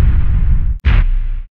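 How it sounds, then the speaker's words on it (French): A sampled explosion is used as a clap to double a snare: two loud, close booming bursts, the first sustained and the second cutting in right after a brief gap. "Pour ça, j'ai samplé une partie de l'explosion."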